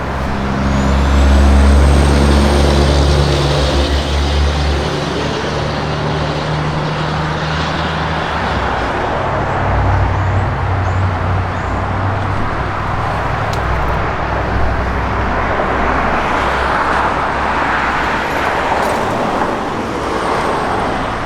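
A 1970 AMC Javelin SST engine running steadily with a low rumble, loud and close throughout, with no talking over it.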